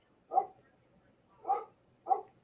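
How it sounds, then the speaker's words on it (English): A dog barks three times at a moderate distance, the sharp barks spaced unevenly with quiet gaps between them and no talking. "Damn dogs."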